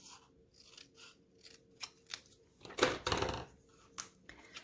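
Scissors snip through paper in a run of short, crisp cuts during a papercraft session, ending in a louder crunchy slice, close and quiet.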